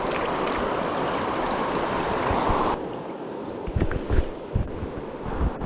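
Flowing river water rushing steadily and loudly in the foreground for a few seconds, then quieter burbling with scattered splashes and knocks.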